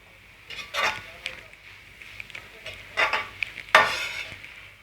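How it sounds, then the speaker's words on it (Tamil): Vegetables for fried rice sautéing in a pan, with a soft sizzle under several bursts of stirring and scraping against the pan, close and moderately loud, and no talk. "இந்த காய்கறிகளை ஒரு அஞ்சு நிமிஷத்துக்கு நம்ம நல்லா வதக்கி விட்டுப்போம்"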